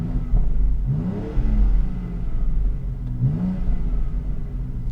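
A 2022 BMW X3 M engine with sport exhaust revs twice with deep exhaust roar, each rev rising then falling, with low burbling rumble and pops idling between.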